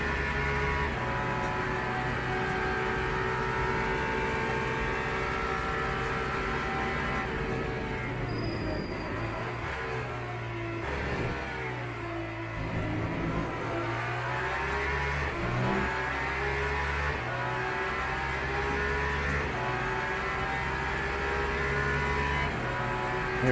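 Race car engine in the Le Mans Ultimate sim racing game, a continuous high-pitched roar rising and falling through gear changes and braking, with revs climbing again on acceleration, sustained throughout.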